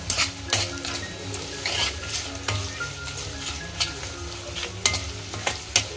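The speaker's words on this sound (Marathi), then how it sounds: "आता कांदा जोपर्यंत हलकासा लाल होत नाही तोपर्यंत आपल्याला तो तेलामध्ये फ्राय करायचा आहे." Onion frying in oil with bay leaf in a pot over a wood-fired stove, a dense steady sizzle broken by repeated scraping stirs and metallic clinks of the spoon against the pan.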